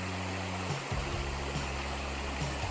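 A stream at a water crossing on the Eagle Rock Loop hiking trail in Arkansas rushes in a steady, close, even flow, with low rumbling undertones and no voices.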